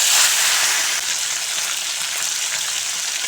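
Small mourola fish fry in hot oil in a village-style kitchen, producing a loud, dense, continuous sizzle that stays close and steady for the whole moment, with no voices.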